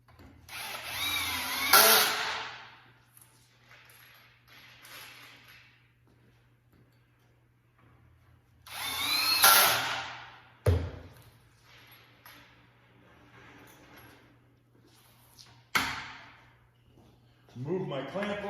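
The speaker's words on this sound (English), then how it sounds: "And ready to drive my second seat slat." Power drill driving screws into a wooden chaise lounge seat slat, several short whirring bursts close by separated by quiet pauses, with a voice speaking between the bursts.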